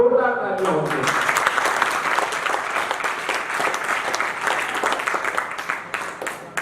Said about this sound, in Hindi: एक बार जोरदार तालियां होंगी।